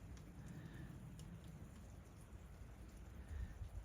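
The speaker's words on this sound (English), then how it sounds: "And the rain keeps coming." Steady rain falls outdoors on a farm during a morning of extreme weather, a continuous broadband wash of patter with a few louder low thuds, heard alone.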